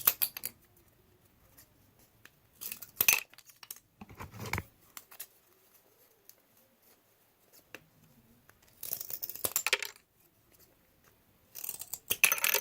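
Scissors snip through thin material to cut small shelf pieces for a doll bookshelf, a few separate bursts of close cutting spread across quiet gaps.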